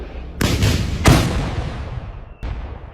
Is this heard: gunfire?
yes